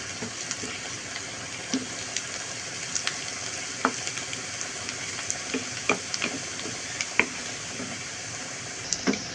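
Onions fry in hot oil with a steady soft sizzle, scattered with small pops and crackles at irregular intervals.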